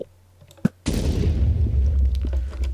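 Explosion in the Minecraft video game: a short click and a brief pop, then a sudden loud boom with a long, heavy rumbling tail that fills the rest of the moment.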